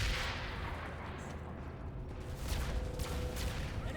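Gunfire in a tactical ops shooter game, a steady wash of distant shots and rumbling fire filling the clip without pause, with no clear voices over it.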